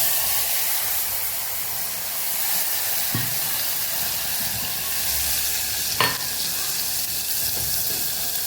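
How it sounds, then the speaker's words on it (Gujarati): Asafoetida and chutney dropped into hot oil in a pan for a Kathiyawadi mung curry, giving a steady broad sizzle with a couple of brief sharper crackles and clinks partway through, close and unbroken by speech. "અહીં આપણું તેલ ગરમ થઈ ગયું છે, તો થોડી હિંગ ઉમેરશું અને આપણે ચટણી ઉમેરી દઈશું"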